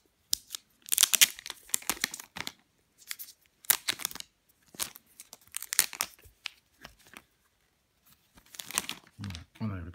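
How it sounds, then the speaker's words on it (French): Plastic wrapping is peeled and torn off a new Apple TV 4th generation, giving bursts of crisp crinkling and tearing separated by short pauses, close and fairly loud. "On enlève le plastique."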